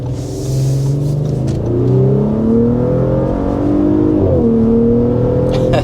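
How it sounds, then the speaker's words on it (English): A 2024 Audi SQ5 accelerates hard to 60 mph, its engine note climbing steadily through the gears in a loud, sustained rising drone with a brief dip at a shift, heard from inside the cabin. "that was an acceleration to 60 miles per hour."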